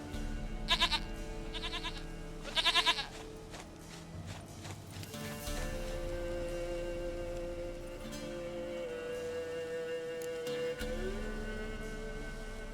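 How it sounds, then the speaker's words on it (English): Goat bleats in The Witcher 3: Wild Hunt, two short bleating calls near the start over hoof clip-clop and game ambience, then a steady music and ambient bed with no clear speech. "Goat of mine, dearest, sweetest goat."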